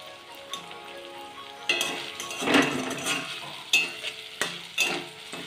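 Paneer sizzles as it fries in oil in a kadai, with a steady crackle broken by repeated scraping clinks of a spatula stirring against the pan.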